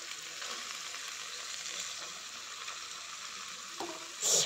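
Fish frying in hot oil, a steady continuous sizzle running throughout at moderate volume, with a brief louder burst near the end.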